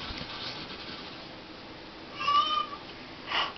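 Cat meows once clearly, close by, followed by a shorter faint vocal sound, with quiet background noise.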